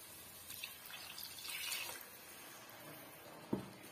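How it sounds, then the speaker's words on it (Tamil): Water poured into egg gravy simmering in a pan, a steady trickling splash running for a few seconds with a brief clunk near the end, close and moderately loud. "இப்ப தேவையான அளவுக்கு நம்ம தண்ணி சேர்த்துக்கலாங்க."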